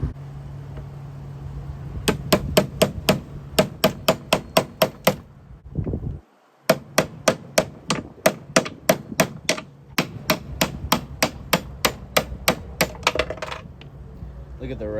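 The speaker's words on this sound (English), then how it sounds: "Now we want to use a chisel to separate these two spacers." A hammer strikes a chisel to split two rusty spacers on a Turf Tank One/One+ motor, delivering loud, sharp metallic blows in fast bursts with a short pause midway.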